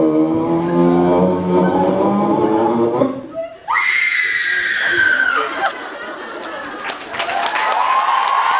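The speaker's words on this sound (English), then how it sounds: "I feel like I should scream" A loud, sustained scream rises with high, strained pitch in the middle, backed by a crowd and cheering at a fan convention event, with people talking nearby.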